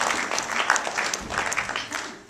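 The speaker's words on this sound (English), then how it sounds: "big round of applause for Savitrimani for all the hard work" Lecture hall audience applauding at a program finale, brisk uneven clapping with individual claps standing out, close and fairly loud, a few voices mixed faintly underneath.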